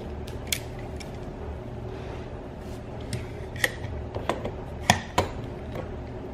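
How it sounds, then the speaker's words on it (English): A router jig is clamped onto a table, giving a few sharp clicks and knocks and a creaking clamp that ratchets tight over a quiet room hum. "So first off, I gotta clamp the jig to the table."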